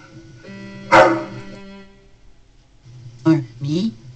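An animated dog gives a sharp bark, then a pair of shorter yips a couple of seconds later, close and clear, with speech also present in the scene.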